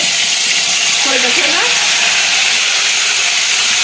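Spice paste ground in a mixer hits hot oil and sizzles loudly, a dense, steady hiss filling the whole stretch with a brief voice-like tone partway through.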